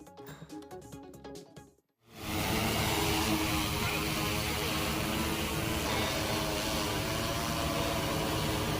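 An agricultural seed-planting drone built at Dr. M.G.R. University in Chennai spins up after a brief quiet gap into a loud, steady, close rotor drone that holds at full power throughout, with no voices.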